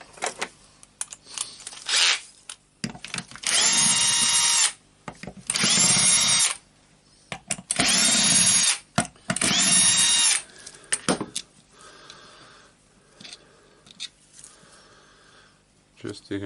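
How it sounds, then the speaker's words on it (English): A power screwdriver removes four screws from a Berner BROS 150 orbital sander, with four loud high-pitched whirring bursts of about a second each, close up, between softer handling clicks. "Just taking out all the 4 screws."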